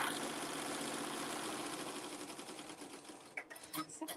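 Embroidery machine stitching small faces with eyes and mouths onto earrings, cutting thread between areas: a fast, steady mechanical chatter throughout, easing slightly near the end as a few sharp clicks and taps come in.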